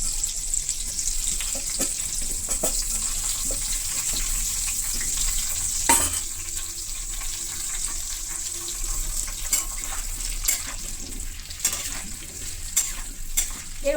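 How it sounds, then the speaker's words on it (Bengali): Potatoes frying in hot oil in a pan for an egg potato curry, giving a steady close sizzle with scraping stir strokes and occasional sharp clatters throughout. "আলুগুলোকে একটু ভালো করে ভেজে নেব।"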